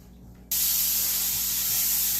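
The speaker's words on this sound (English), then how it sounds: "and you'll hear the sizzle." A sudden loud sizzle bursts in after a quiet half second and holds steady, a close, bright hiss of potatoes and cabbage hitting a hot iron skillet.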